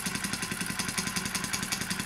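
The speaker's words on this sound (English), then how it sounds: "With the one little meths burner, it runs at a nice steady speed." Wilesco D4 toy steam engine running steadily on a small meths burner, giving a continuous rapid rhythmic chuffing clatter, close and fairly loud, with no talk.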